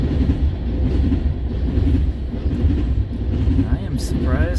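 A CN freight train rolls past close by in Ladysmith, Wisconsin, giving a loud, steady rumble with rattling wagons throughout, ending in a faint rising whine.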